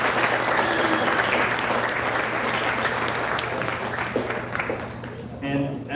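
Sustained applause fills a sports awards banquet hall, a dense steady wash of many hands clapping at close range that thins slightly near the end, with crowd murmur mixed in.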